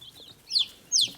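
Two short, high clucks from backyard chickens outdoors, quiet and moderately close, separated by a brief pause with no talking.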